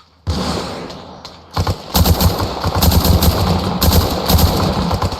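Rapid bursts of automatic gunfire and scattered single shots ring out in ARMA Reforger during a military simulation squad operation, loud and close, with dense overlapping volleys after a short quiet start.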